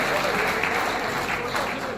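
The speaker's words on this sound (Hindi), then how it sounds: "जोरदार ताली बजाकर हम स्वागत करें" A crowd at an outdoor political rally in a village claps loudly and continuously, a dense wash of applause with some voices mixed in.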